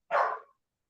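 A dog gives a single short, sharp bark indoors at home, clear and close, followed by silence.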